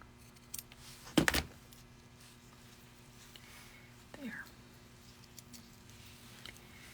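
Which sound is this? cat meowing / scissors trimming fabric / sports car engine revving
scissors trimming fabric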